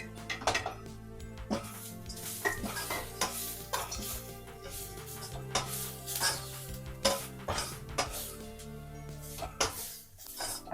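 Corn kernels fry in a pan for crispy corn, a soft sizzle beneath frequent metallic scrapes and clinks of a spoon stirring against the pan, fairly quiet and close, with no talking.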